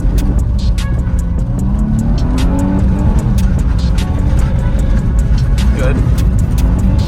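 C6 Corvette pro drift car driven at full throttle with wheels spinning, a loud, sustained engine roar under near-constant talk from a coach, with tire squeal woven through.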